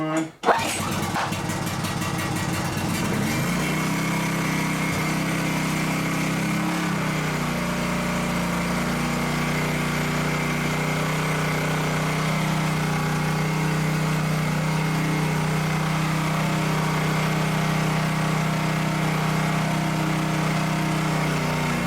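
A small portable generator found free at the roadside, with the choke on, pulls to a start and settles into a loud, steady high-pitched engine drone that runs unbroken and close for the rest of the stretch.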